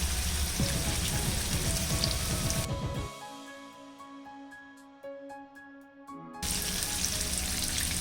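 Fish curry sauce fries with butter in a pan, giving a steady, dense sizzle. A quieter gap midway holds faint clicks before the sizzle returns at full strength.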